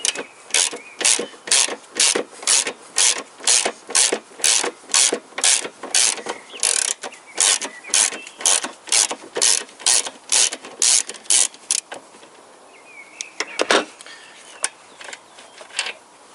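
A ratchet wrench works a 14 mm engine mounting bolt loose on a Toyota Corolla VVT-i, giving a fast, even run of loud, close ratcheting clicks in regular strokes that stop near the end, followed by a few scattered clacks.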